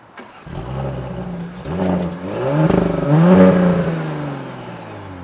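A 2019 Audi S4 engine revs hard and accelerates on a test drive, rising through several surging pulls with climbing pitch, loud and close, a sustained throaty roar that swells toward the middle and eases off near the end.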